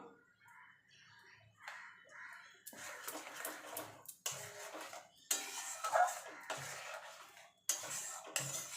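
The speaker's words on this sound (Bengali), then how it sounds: "এবার ভালো করে মিশিয়ে মশলাটাকে ভালো করে কষিয়ে নেব" A spoon works spice masala in a pan for a vegetarian chana paneer dish, quiet at first, then intermittent bursts of scraping and metallic clinking against the pan.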